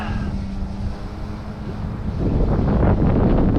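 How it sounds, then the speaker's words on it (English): Strong wind buffets the microphone at an RC flying field while a Dynam AT-6 Texan model plane is flown, a loud continuous roar that swells heavier in the second half, with no talking. "there's a lot of wind"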